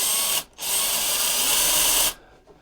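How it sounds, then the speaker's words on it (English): A power drill boring a hole during an animatronic Halloween prop repair gives a brief whir, a short pause, then a longer steady high whine that cuts off abruptly, heard close and loud. "let's go ahead and drill a hole for that"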